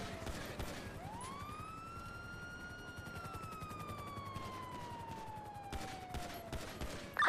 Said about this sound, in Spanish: cuidado, están disparando